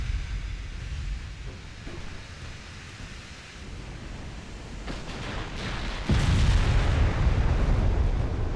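Tank gun fire in a Greek extended campaign of a war strategy game, a heavy boom near the end over a rumbling, noisy battle backdrop.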